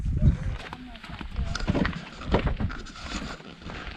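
A car engine cranks and catches while being jump-started with a Hulkman Alpha85S jump starter during an overlanding trip. The rough, low rumble starts loud, then continues under people talking and wind.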